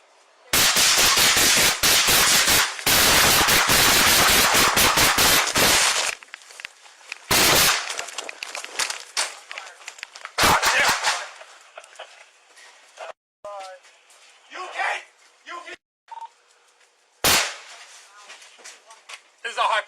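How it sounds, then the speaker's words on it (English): High-powered rifle gunfire erupts in a long rapid burst of loud cracking shots, then a few isolated blasts separated by quieter gaps where faint movement and other noises come through. "This is a high-powered rifle."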